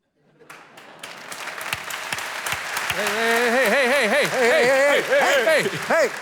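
Applause from a comedy show audience rising from scattered claps to a full ovation, with laughter-like vocal swells over the clapping toward the end.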